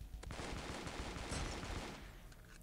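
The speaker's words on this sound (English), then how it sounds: "where am I getting shot from?" Rapid gunfire in a video game, a dense, sustained burst of shots that fills the clip at moderate loudness before tapering slightly near the end.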